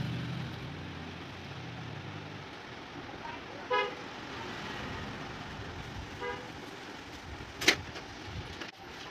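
A passing vehicle's horn plays a short musical tune amid steady street traffic, sounding briefly twice: a faint melodic burst early on, then a louder, sharper toot near the end.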